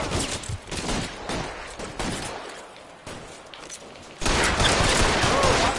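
A rapid fusillade of gunfire in the crime video game L.A. Noire, dense overlapping shots that grow louder and continuous in the final seconds with no talk.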